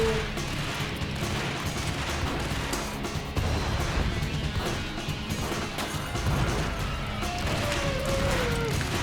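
Dual Uzi gunfire in the video game Max Payne, dense rapid bursts and crashing impacts layered over game sound, loud and continuous with a brief lull partway through.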